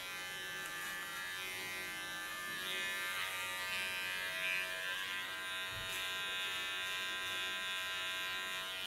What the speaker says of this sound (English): creating also a sharp side beard. A small clipper.